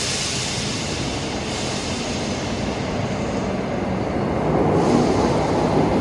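Scotrail passenger train, the 0918 service from Dalmuir, pulling into Larkhall station near Glasgow, a broad, loud continuous rush of rolling wheels and air that swells slightly near the end, with no voices.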